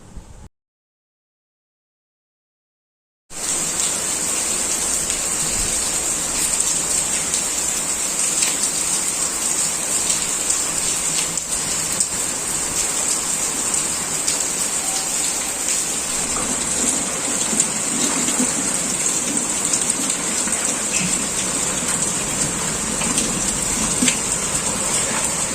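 Heavy rain mixed with hailstones pours steadily in Raebareli, a dense, even hiss of falling water and pelting ice that starts after a brief silence and continues unbroken without any talk.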